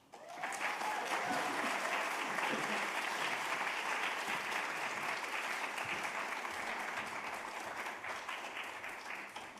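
An audience at an artist talk applauds warmly as artist Anila Quayyum Agha is welcomed to the stage, a dense, steady wash of clapping from many hands that fills the room and holds for several seconds before easing slightly.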